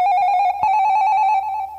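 A telephone rings with a bright, steady electronic tone that breaks briefly partway through, loud and close with no voices.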